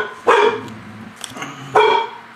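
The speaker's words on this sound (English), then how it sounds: "dog barking." A dog lets out two loud, close barks about a second and a half apart in an otherwise quiet indoor room.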